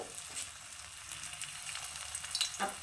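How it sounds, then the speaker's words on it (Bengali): Close, crackling sizzle of wheat flour and potato dough pieces frying in hot oil, steady throughout with a brief louder burst near the end. "এবার তেলের মধ্যে এগুলোকে দিয়ে দিব"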